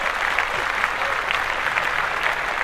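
A podcast audience breaks into steady, dense applause that holds at an even level throughout, with faint voices mixed in underneath.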